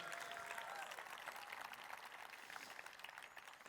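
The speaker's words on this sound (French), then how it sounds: "nous acclamons Jésus, s'il vous plaît, peuple de l'Église de Belleville" A church congregation in Belleville applauds and cheers steadily throughout, a dense, continuous wash of clapping from a large crowd indoors, with no distinct voices standing out.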